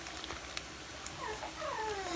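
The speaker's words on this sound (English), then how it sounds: "My dog wants out, pardon me." A dog whines from across a kitchen, a series of faint, high rising whimpers and squeaks over a low room hum, with no talk.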